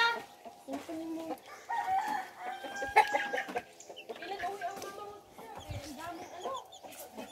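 Farmyard chickens cluck steadily and a rooster crows partway through, mixed with people chatting casually nearby.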